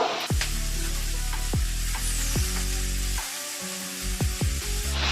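Boiled cabbage goes into a pan of frying potatoes, peas and tomato, setting off a steady loud sizzle broken by several sharp spatula scrapes and knocks against the pan.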